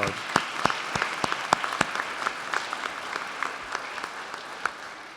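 Audience at an outdoor Veterans Day ceremony in Carmel applauding the VFW Honor Guard, a steady patter of many hands clapping with sharper individual claps standing out, fading slightly toward the end.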